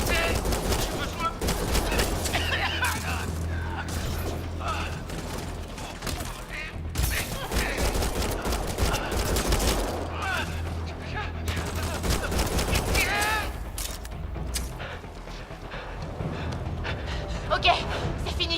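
Dense gunfire from a firefight in the video game Mass Effect Andromeda, sustained bursts over a continuous loud battle mix with voices and music throughout.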